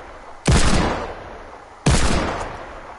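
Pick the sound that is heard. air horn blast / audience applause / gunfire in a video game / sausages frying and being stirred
gunfire in a video game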